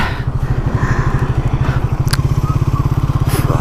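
A Triumph Speed 400 motorcycle cruises on the highway at about 100 km/h, its single-cylinder engine thumping in a steady, rapid pulse close up, with wind noise and a couple of brief clicks over it.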